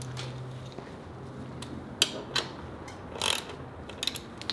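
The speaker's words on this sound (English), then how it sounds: "So lastly, I'm going to tighten all the bolts on the side." Several sharp metallic ratchet clicks in short, separate bursts as bolts on a Royal Enfield Interceptor 650 headlight assembly are tightened. The clicks are fairly faint and close against a quiet background.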